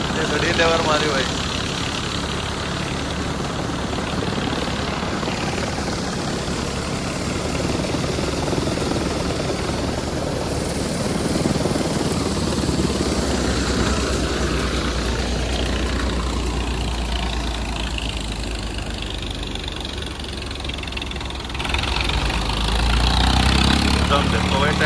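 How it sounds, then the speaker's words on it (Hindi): Swaraj tractor engine running steadily during work on a wet field, a constant loud low rumble with no breaks, with people talking over it. "देखो भाई ट्रैक्टर का बिल्कुल लास्ट स्टेज आगे भी बंद नहीं होता।"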